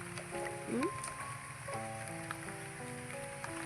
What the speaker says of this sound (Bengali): আর খুব বৃষ্টি হচ্ছে